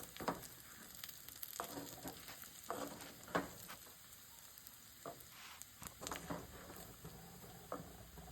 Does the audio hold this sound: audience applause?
no